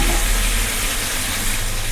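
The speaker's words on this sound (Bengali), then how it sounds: "চিকেনটা এখানে ভাজা হচ্ছে" Chicken pieces hiss and sizzle steadily in a pan, a dense, close, continuous frying noise with no talk over it.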